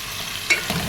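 Fish fries in a pan with a soft, steady sizzle and a couple of brief louder crackles, close but faint.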